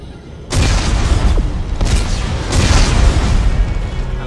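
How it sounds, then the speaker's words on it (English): Explosives detonate in the sci-fi horror video game Dead Space 3, with a sudden heavy boom followed by a few further rumbling blasts that roll on loudly and close up, with no voices. "Computer, arm explosives. And detonate."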